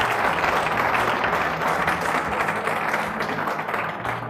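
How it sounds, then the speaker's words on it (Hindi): A church congregation at a Christian gathering applauds loudly and steadily, a dense wash of clapping that holds at full level for several seconds with a low hum underneath. "जोरदार तालियां बजाएं यीशु के जलाल के लिए"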